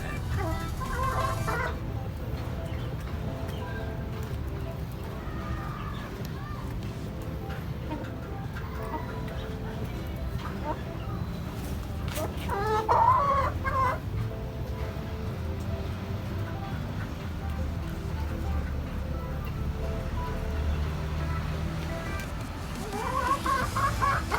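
Chickens and roosters kept on a rooftop cluck steadily with occasional crowing, a constant farmyard din spread across the whole stretch, medium-near with birds at several distances.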